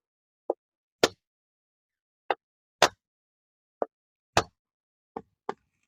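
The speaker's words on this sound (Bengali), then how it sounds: "নারকেলটা ছাড়িয়ে নিয়েছি, এবার কেটে নেব" A peeled coconut being struck open with a blade, giving eight sharp, dry knocks at uneven intervals, each one brief and close, with silence between them and no voices.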